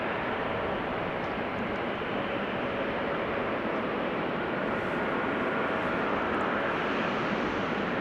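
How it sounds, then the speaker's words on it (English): An Austrian Airlines A320neo taking off from runway 18L at Schiphol gives a broad, steady jet roar that stays constant and fairly distant throughout. "A320Neo from Austrian is also making its way over to 18 left to take"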